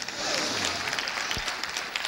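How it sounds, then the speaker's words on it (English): A church congregation claps hands at a Sunday service, a dense burst of many hands clapping together, fairly close and sustained for about two seconds. "Give Jesus a hand clap."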